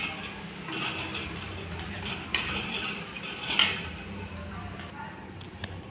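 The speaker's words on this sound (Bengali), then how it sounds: "দিয়ে লাল লাল করে ভালো করে কষে নেব" Spoon scraping and stirring in a pan as turmeric and cumin powder are fried for a kochu stem dish, with steady clinks and a couple of sharper knocks against the metal over a low background hiss.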